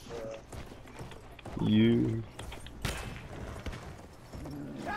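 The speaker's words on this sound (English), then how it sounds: "Juan, are you on a horse?" A horse's hooves clip-clop briefly in a video game, moving along under game music and other effects while someone talks.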